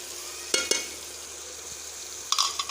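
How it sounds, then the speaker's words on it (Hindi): Chopped tomatoes and green chillies hit a pan of lightly browned onion and garlic for a Pakistani-style tarka pumpkin dish. A steady soft sizzle runs throughout, broken by a few sharp clinks from stirring. "प्याज और लहसुन लाइट ब्राउन हमारा हो गया है। इसमें डालेंगे अब टमाटर और हरी मिर्च डालेंगे इसमें"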